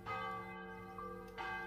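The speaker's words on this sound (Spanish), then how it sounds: "nueve campanadas sonoras resbalaron con metálico frío sobre mi epidermis" A church bell rings with a resonant metallic tone, two strikes about a second apart, each with a long humming decay, heard at low volume without voices.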